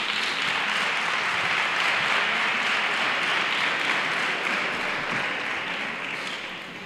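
Steady, sustained audience applause fills the hall at a Three Kings (Reyes Magos) coronation ceremony in El Trobal, a dense wash of clapping that holds evenly for several seconds before easing slightly at the end.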